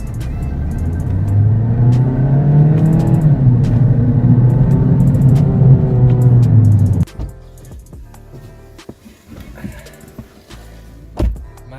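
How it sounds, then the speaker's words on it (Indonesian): A 2015 Mazda 2 Skyactiv engine running and revving, a loud close rumble that rises and falls in pitch, then cuts to a quieter cabin with clicks and thunks. "Mari kita jalan. Nyalain mesin dulu."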